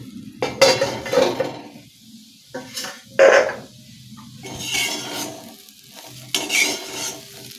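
A spatula scrapes and stirs okra coated in besan around a hot pan as the lid comes off, with clinks of utensil against metal and light sizzling in uneven bursts, close and fairly loud, and no voices.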